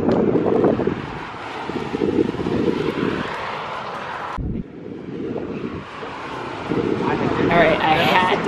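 Gusty wind buffets the microphone at a racetrack, a heavy, continuous rumbling roar that surges and dips, with a brief drop midway and a jet-like engine whine rising toward the end.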